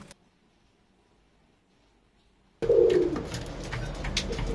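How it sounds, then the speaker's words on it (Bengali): Lakkha fancy pigeons, a breeding pair, coo loudly and close after a stretch of near silence, with steady bird calls continuing to the end. "লক্ষার মুখী কবুতরের জোড়া দিয়েছিলাম"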